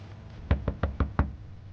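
Police pound on a door in a French drama scene: five sharp, loud knocks in quick, even succession, close by, with no speech over them.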